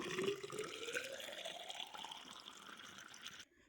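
Water is poured into a hollow bamboo tube, open at one end, to rinse it before cooking chicken. The splashing gurgle climbs steadily in pitch as the tube fills, then cuts off abruptly.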